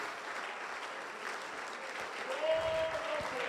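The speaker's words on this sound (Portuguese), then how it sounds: "vamos aplaudir ao Senhor." A church congregation claps together in a steady, fairly distant wash of applause, with a short sung or held tone near the end.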